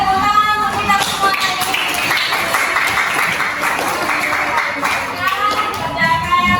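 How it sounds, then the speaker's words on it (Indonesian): A class claps together in a classroom during a teaching session, a dense, lively round of hand clapping lasting several seconds, with children's voices mixed in. "tepuk tangan untuk kita semua"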